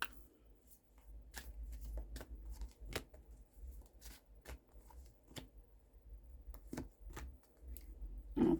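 Unicorn oracle cards are shuffled by hand with soft, irregular riffling taps and flicks. The sound is quiet and close, with no talking.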